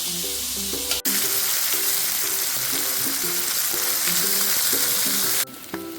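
Masala with tomatoes frying in a pan for Punjabi kadhi, a loud, steady, close hiss of sizzling oil that continues throughout, with faint stirring under it and no talking.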